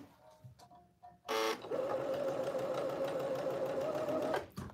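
A domestic sewing machine stitching a piece of scrap fabric, a loud continuous mechanical whirr with a rapid needle rhythm running for about three seconds, preceded by a brief burst and a few small clicks.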